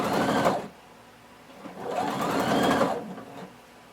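Sewing machine stitching binding onto a tank top at a 3/8 inch seam allowance, heard as two short bursts of rapid mechanical whirring separated by a pause, close and fairly quiet with no talking.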